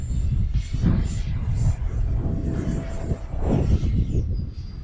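Arrows Avanti S 50mm electric ducted-fan RC jet flying in wind, a steady whooshing rumble with swelling passes, moderately loud and continuous against outdoor wind noise.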